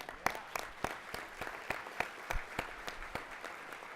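Audience applause for graduates of a training program at a speech event: scattered, moderately distant clapping with sharp individual claps, steady throughout, with no talking.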